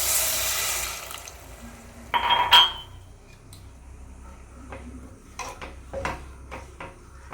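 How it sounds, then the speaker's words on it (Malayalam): Water is poured into a pan of sugar on the stove for grape halwa. A short rushing pour comes first, followed by scattered metallic clinks and taps from the pan and utensils, close and fairly quiet. "1/4 കപ്പ് വെള്ളം ഒഴിച്ച് കൊടുക്കാം."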